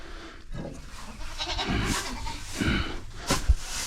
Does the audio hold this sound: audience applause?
no